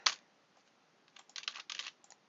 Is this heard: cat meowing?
no